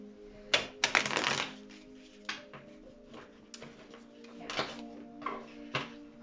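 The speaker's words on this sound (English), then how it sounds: "I really need to stop shuffling this way, because I'm gonna be destroying all my decks" A deck of tarot cards is shuffled in repeated quick riffling bursts, crisp and close, with pauses between them over a faint steady hum.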